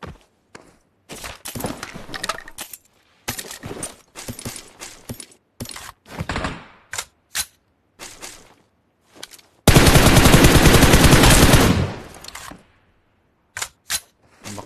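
PUBG Mobile gunfire, sharp separate shots and short bursts spread across the span, then one loud, long sustained blast of sound before a few more isolated shots.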